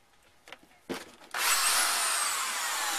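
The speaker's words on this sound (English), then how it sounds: "let me just test this on my drill" A power drill whirs up to full speed and keeps running steadily and loud, after a few brief clicks and knocks.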